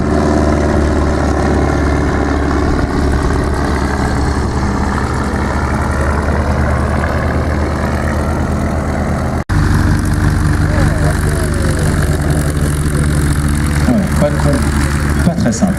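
Steady drone of the engine of a homebuilt 1928 plywood parasol-wing propeller plane at an air show, running continuously, with someone talking over it throughout.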